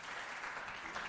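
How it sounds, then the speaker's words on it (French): An audience applauds a poet being welcomed at a school competition event, a brief, thick burst of clapping with no voices over it. "Sous vos applaudissements, s'il vous plaît."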